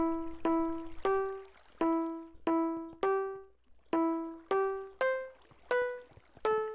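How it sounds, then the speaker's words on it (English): Plucked harp notes in Minecraft Skyblock play Brahms' Lullaby as a slow melody of about a dozen clear tones. Each note rings and fades before the next, set against a quiet background with no talk. "Brahms' Lullaby"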